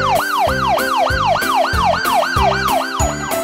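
An ambulance siren wails in a steady, rapid up-and-down cycle, loud and close, over a thumping rhythmic music beat throughout.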